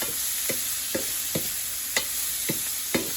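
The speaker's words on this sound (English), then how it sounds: "We are going to stir fry it nicely." Chicken and mushroom quiche filling stir-fried in a pan over medium heat, steady sizzling broken by about seven evenly spaced scrapes of the spatula, close and alone with no voices.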